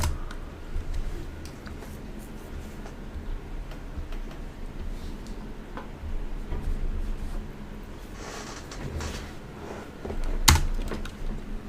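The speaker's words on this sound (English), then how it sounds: "We'll then type reboot now" Someone types a command on a computer keyboard, a close, steady run of light key clicks ending in one firmer keystroke.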